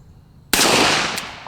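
A single loud close shot from a Smith & Wesson Model 19 K-frame Magnum revolver cracks sharply and rings out, with a faint metallic ping of a small steel plate being hit right after.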